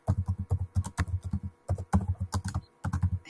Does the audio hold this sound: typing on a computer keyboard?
yes